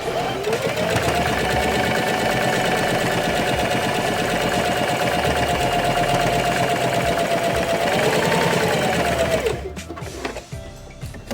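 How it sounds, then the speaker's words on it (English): Close, loud sewing machine stitching the sides of fabric for a children's face mask, running continuously at a steady pace before stopping near the end, with soft handling noise after. "then I'm going to sew the sides of it. Over here I've got one already set up on my machine"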